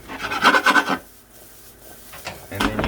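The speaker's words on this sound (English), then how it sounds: "I'm just scraping the bottom of the pan with my spoon" A metal spoon scrapes across the bottom of a cooking pan, loosening caramelized bits after bacon was browned; two close rasping bursts come first, then a quieter stretch and another scrape near the end.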